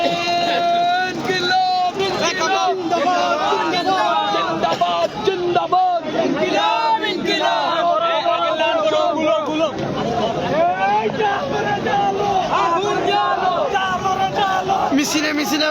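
A large crowd at a night protest march in Sylhet chants and shouts continuously, loud and dense with wind buffeting the microphone and no pauses.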